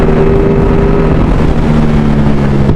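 Loud, steady engine drone from a Ducati Streetfighter V4 naked motorcycle ridden fast, holding a sustained high-revving tone with a brief gear change midway and heavy wind noise throughout.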